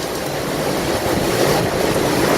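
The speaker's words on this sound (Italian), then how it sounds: "è ripreso con vigore questi venti violentissimi, queste raffiche" Violent wind gusts during a severe storm on Monte Amiata near Piancastagnaio, Siena, a loud continuous roar buffeting the microphone with no voices.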